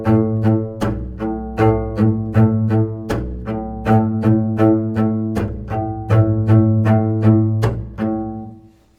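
Double bass played slowly in 3/4, a repeating six-stroke pattern of plucked or bowed notes with a percussive chop stroke, each attack sharp and clear, close and alone, fading out at the end.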